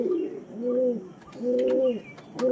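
Kalanka pigeons coo close by in three repeated throaty rolling phrases, with faint chirps in the background.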